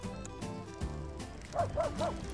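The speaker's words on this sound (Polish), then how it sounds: "Piesek się zdenerwował, że jeżdżę po jego deptaku." A small dog gives three quick, high-pitched yappy barks at a moderate distance on a promenade in Hel, Poland, over steady background rumble like wheels rolling on pavement.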